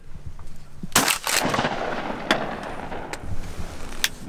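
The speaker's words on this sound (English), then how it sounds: "Nice shot, Matt." Shotgun blasts during a duck hunt from a blind, two loud sharp reports close together near the start, followed by a few fainter distant shots echoing over a steady outdoor background.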